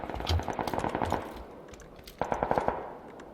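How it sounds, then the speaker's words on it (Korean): Two quick bursts of rapid gunfire in the video game PUBG (Battlegrounds), crisp and close, each a rattling string of shots with a short pause between them. "지금 총소리 들리는 곳인가요?"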